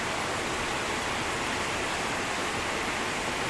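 Heavy rain pours down steadily during a flood, a dense, unbroken hiss of water filling the whole clip with no pauses or talk.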